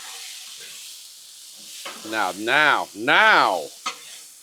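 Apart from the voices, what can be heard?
mixing shrimp, sausage, potatoes and peppers sizzling on Blackstone griddle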